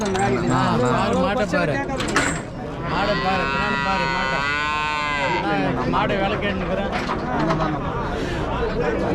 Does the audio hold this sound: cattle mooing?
yes